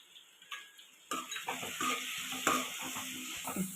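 Curry leaves frying in oil with turmeric and salt added, starting with a quiet pan and then a sudden burst of steady sizzling with spatula scrapes and light clinks against the pan, up close.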